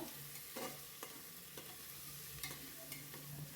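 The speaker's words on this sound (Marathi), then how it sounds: "ते पावटा पण आपल्याला छान परतून घ्यायचा आहे बघा" Field beans (pavta) being sautéed in a pan, a soft continuous sizzle broken by repeated light stirring clicks and scrapes, quiet and close.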